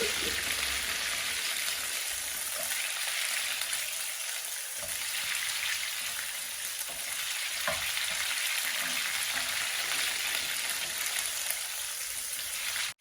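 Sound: ginger garlic paste frying in a pan

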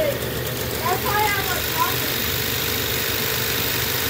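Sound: heat pump compressor vibrating on an inverter drive at 40 Hz

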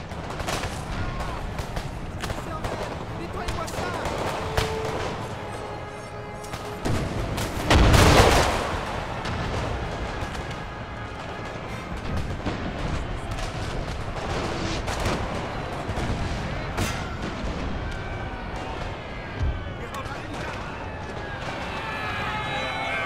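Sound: artillery fire in video game Napoleon Total War

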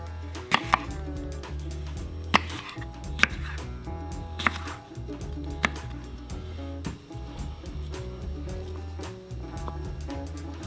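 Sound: knife slicing apple on a cutting board

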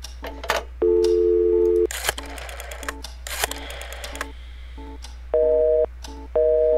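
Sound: telephone busy signal in video game Scratches

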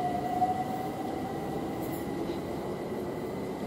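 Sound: London Overground Class 378 train departing station

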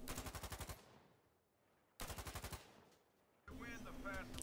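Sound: gunfire with recoil from video game Insurgency Sandstorm

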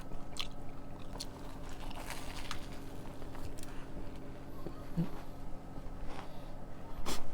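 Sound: biting and chewing an Isaac Toast sandwich

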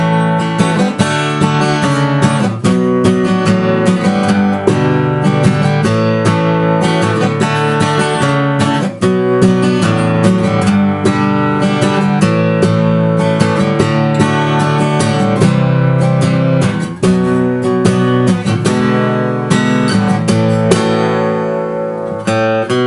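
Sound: guitar strumming chords of a song

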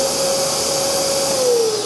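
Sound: Kärcher multi-purpose wet and dry vacuum cleaner running

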